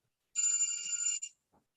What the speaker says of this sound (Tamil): என்னம்மா ஃபோன் வந்துகிட்டே இருக்கு